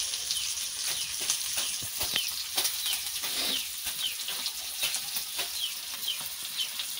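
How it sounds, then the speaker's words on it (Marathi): Mullet (boi) fish frying in oil on a tawa over a traditional wood-fired stove, Agri home style, a steady close sizzle with crackling pops and occasional sharper spits throughout. "आपल्या तव्यावरती लगभग हे बोईट आता फ्राय झालेले आहेत"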